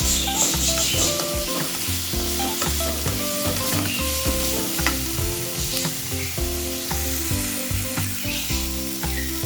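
Masala with tomatoes frying in a pan for egg sambar: a continuous loud sizzle with rhythmic scraping and stirring strokes of a utensil against the pan, close up, no voices.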